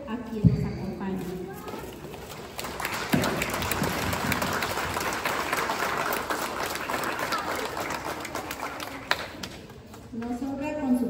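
A graduation ceremony audience applauds steadily for several seconds in a hall, the clapping dense and mid-distance, with a voice speaking before and after it.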